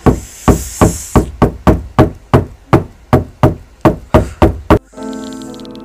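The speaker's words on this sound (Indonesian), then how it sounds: "Sosok wanita itu menggedor pintu kamar aku, Aldi." Heavy pounding on a bedroom door in a horror voice note, about fourteen loud, hard thuds in a steady, insistent rhythm, up close, followed by a brief stretch of quieter hum.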